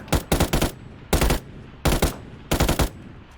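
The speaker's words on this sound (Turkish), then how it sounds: "Ben tam bir bot gibi sıkıyorum adama" Four rapid bursts of automatic gunfire crack out in the video game PUBG, each burst a tight cluster of loud, close shots separated by short pauses.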